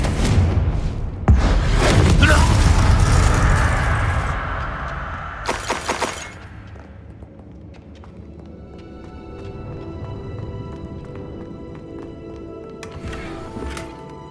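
Spell combat in the Hogwarts Legacy video game, with Glacius and Confringo cast in quick succession: loud crashing, shattering bursts near the start and again around the middle, then a quieter rumbling ambience with a final sharp burst at the end.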